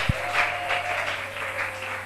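A church congregation claps in acclamation of Jesus Christ during a French-language worship service, a steady wash of applause holding evenly for about two seconds under a faint sustained tone.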